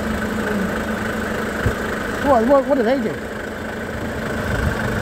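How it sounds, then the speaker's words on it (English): A nearby truck idles with a steady, rumbling engine drone that runs throughout, while people talk over it. "I can't hear you for that truck"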